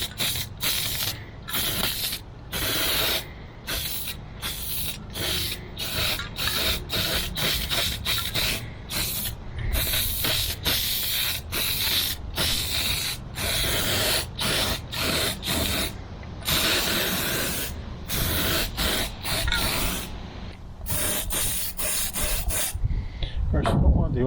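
A utility trailer is spray painted outdoors near a parked Corvette, with bursts of hissing spray cut by short pauses in a quick, uneven rhythm. The sound is close and fairly loud, and there is faint background noise.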